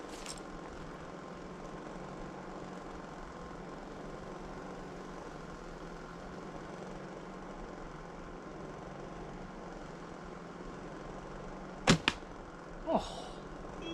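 An arrow leaves an ILF recurve bow fitted with string silencers, a single sharp snap followed by a brief second thump, heard once against a quiet outdoor background of faint engine hum.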